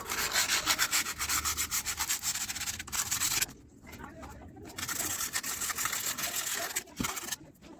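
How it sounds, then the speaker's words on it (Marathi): Sandpaper rubs a motorcycle part in a garage in quick, rhythmic back-and-forth strokes, close and loud, pausing briefly midway before the sanding resumes. "त्याला आपण आता सँडपेपरने पॉलिश करणार आहोत"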